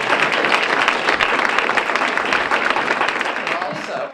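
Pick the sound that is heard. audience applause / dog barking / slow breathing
audience applause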